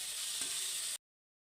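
Boiled potatoes fry with spices in a pan, producing a steady close sizzle for about a second with one faint stir knock and no voices.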